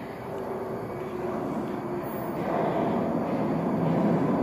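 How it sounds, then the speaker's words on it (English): A TTC Mark 1 transit train approaching with a steady low rumble that grows gradually louder, rolling noise building as it draws nearer. "Here comes the train."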